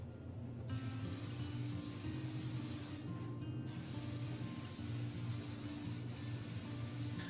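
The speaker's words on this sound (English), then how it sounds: "Started off this with a spray gun in my hand and a tack cloth" A steady hiss of a spray gun spraying Campbell's Crystal water-white conversion varnish onto a bluestone bench runs throughout, with a couple of brief pauses, close by over a low hum.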